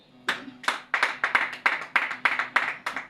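A church congregation claps in praise of Jesus: a quick series of about ten loud, sharp clap bursts in a steady rhythm from a crowd, close and without talking.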